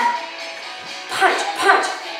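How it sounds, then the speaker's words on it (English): Household dogs let out a couple of quick barks and yips, moderately close, in a home during an indoor cardio kickboxing workout. "Oh, the dogs are barking."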